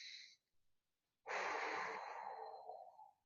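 A person takes one deep, audible breath in during a core workout, a long close inhale that fades out, after a brief earlier breath sound and a moment of quiet.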